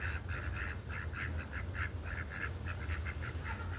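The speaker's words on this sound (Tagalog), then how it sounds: "Puntahan natin guys yung mga bibi." Ducks quack in a rapid, repeated chorus at night, several birds calling close by over a steady low background hum.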